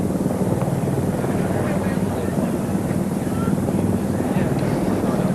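A helicopter flies over Epsom racecourse during the Derby, its steady rotor drone and rumble loud and continuous with wind buffeting the microphone.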